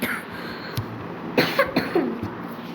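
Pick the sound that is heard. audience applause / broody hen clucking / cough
cough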